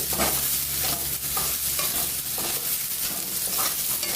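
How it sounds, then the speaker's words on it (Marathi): Spices, red chili and coriander powder are sautéed with onion and tomato in a pan over a low flame for a Maharashtrian eggplant bharit, giving a steady close sizzle with repeated scraping stir strokes and no voices. "हे सर्व साहित्य कांदा आणि टोमॅटो बरोबर छान असं परतून घेतलीये"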